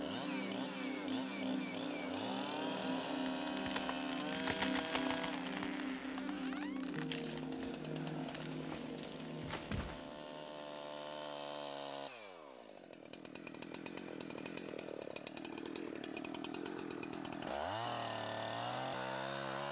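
A chainsaw finishes the back cut while felling a heavy-leaning tree in the forest, the engine roaring loud and close as it bites steadily through the wood, then dropping pitch and idling briefly before revving up again.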